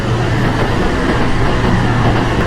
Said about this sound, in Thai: นี่ก็จะเป็นรถไฟที่เราจะขึ้นไปเมืองยอร์กนะครับ